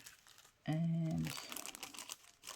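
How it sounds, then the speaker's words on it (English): Stickers are pulled from a packet with a sharp crinkly rustle of plastic. The rustle starts abruptly and is followed by softer handling noises and faint background murmur. "it's having a bit of difficulty getting these out of the packet"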